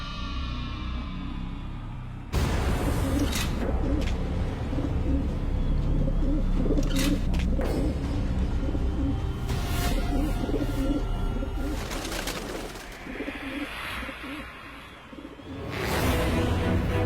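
Pigeons coo and flutter as birds are released into flight during an archery scene, a dense layer of cooing and wingbeats mixed with music and ambience, fairly loud throughout.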